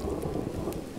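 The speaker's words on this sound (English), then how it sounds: "Is that thunder?" In the survival game Subsistence, steady heavy rain hisses in the background while a low thunder rumble rolls beneath it, continuous and fairly close.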